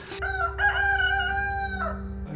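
Rooster crowing in the early morning at lodging in Bolivia, one long loud cock-a-doodle-doo nearby with a steady background hum.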